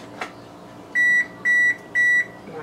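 An oven sounds three evenly spaced electronic beeps to signal it has preheated, loud and close in a quiet kitchen.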